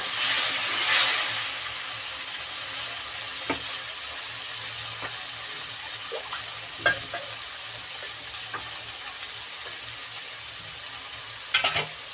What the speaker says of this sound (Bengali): আমি সর্ষে আর কাঁচা লঙ্কা ফিসে নিয়েছি সেটা আমি দিয়ে দেবো তেলের মধ্যে